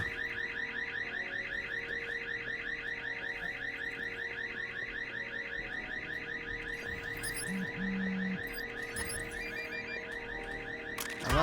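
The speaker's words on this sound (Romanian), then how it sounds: "Alarma a început." A car alarm goes off in the video game Watch Dogs 2, a loud, steady cycling electronic wail repeating rapidly and continuously, with a brief low tone partway through and a burst at the end.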